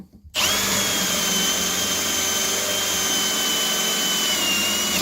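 A Ryobi power tool spins up abruptly and drills through material with a loud, steady, high-pitched whine that holds unbroken to the end.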